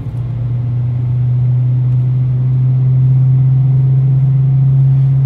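Loud exhaust of a Lexus IS200 TTE Kompressor, a steady deep droning rumble held close and constant for several seconds with no talk over it.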